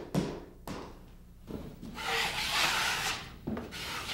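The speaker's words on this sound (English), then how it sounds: "you still have to stir the ready mix to even it out" Ready-mix drywall joint compound is stirred in a bucket with a close, rough scraping and rubbing sound, broken by a few knocks against the container.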